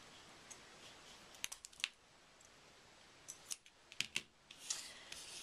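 Scissors snip the end off a pipe cleaner in a quiet craft setting, several quick sharp cuts in small clusters, close and faint, with no talking.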